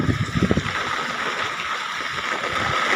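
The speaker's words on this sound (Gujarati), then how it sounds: "હોલમાં પાણી ભરાયેલ પડ્યો છે" Floodwater swirling through a flooded ashram hall, with water covering the stair steps and pipes floating, gives a steady close-up gurgling rush that stays continuous and fairly even throughout, broken only by a few low splashy bumps early on.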